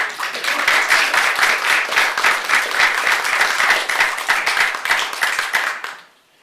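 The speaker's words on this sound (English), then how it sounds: "Now you can applaud." A city council meeting audience breaks into sustained, dense applause at close range, steady clapping for about six seconds before it quickly dies away into quiet.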